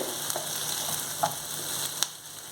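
Onion pieces and capsicum frying in a pan for a chili omelet, a steady bright sizzle with a few light clicks of stirring, no voices.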